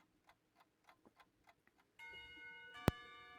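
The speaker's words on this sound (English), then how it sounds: "The lunch bell sounds" A school lunch bell rings in the visual novel Katawa Shoujo, a sudden bright metallic tone that sustains with a sharp strike near the end, preceded by a run of faint soft ticking.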